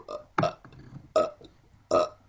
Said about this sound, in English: This is supposed to be a burping Super Mario Bros. Theme.